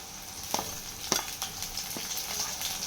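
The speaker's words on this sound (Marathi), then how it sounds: "आता आपण लसूण आणि मिरची टाकतोय" Garlic and chilli frying with softened onion in a pan, a steady close sizzle broken by a few sharp stirring scrapes; no voices.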